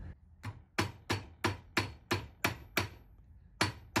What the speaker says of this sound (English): I'm gonna hammer past this line.